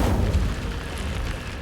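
An Incendio fire spell in a Hogwarts video game erupts into flames as a short, deep, booming whoosh that roars loudly and close for under two seconds.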